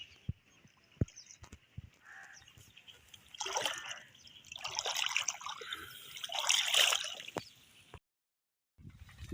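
Clear water flowing and trickling in a village, a gentle uneven gurgle that swells and fades over several seconds, punctuated by a few sharp knocks, before dropping to near silence.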